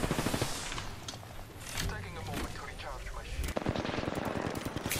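Rapid automatic gunfire in the Apex Legends video game, with dense bursts of repeated shots and impacts over several seconds. Players talk over the shooting throughout.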